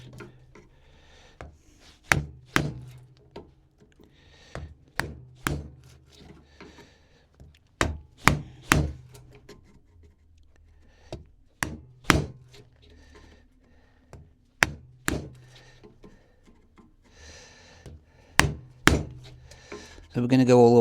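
Chisel driven by a mallet to clear wood chips from a mortise for a dog gate, sharp wooden knocks in irregular clusters, close and loud with quiet pauses between blows.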